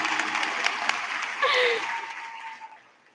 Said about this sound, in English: Oh, you guys can clap.